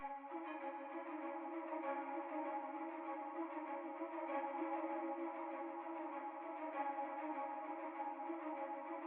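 A breathy, airy flute-like tone loops steadily with a hazy, effected texture, sustained and even in loudness throughout, with no voices.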